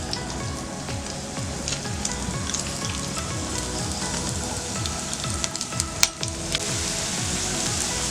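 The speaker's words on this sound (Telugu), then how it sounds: "ఆయిల్ హీట్ ఎక్కాక ఆనియన్ మిర్చి స్లైసెస్," Onion and green chilli slices fry in hot oil in a pan, a dense and steady crackling sizzle heard close, with a few louder pops and stirring scrapes near the end.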